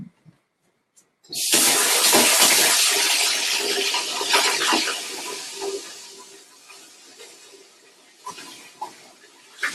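Warm water gushes from a kitchen tap, starting abruptly as a strong steady rush, then thinning out over several seconds, with a few small clunks near the end.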